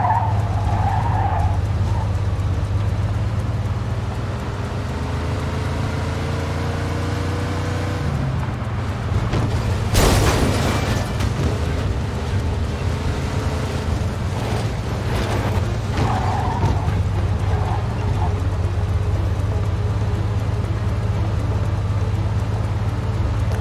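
Low-revving car engine lugging at around a thousand rpm in the Mafia II video game, a steady deep drone with tire skid noise and a brief loud burst partway through, no talking.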